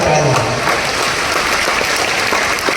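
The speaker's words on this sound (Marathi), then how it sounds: "तुमच्यासाठी जोरदार टाळ्या" A crowd at a temple event in Maharashtra gives dense, sustained applause close by, steady throughout.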